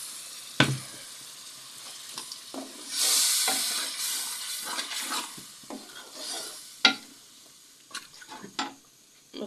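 Masala for an aloo matar curry being fried and stirred in a pan, with a steady sizzle under repeated sharp scrapes and clinks of a spoon against the pan, close and fairly loud.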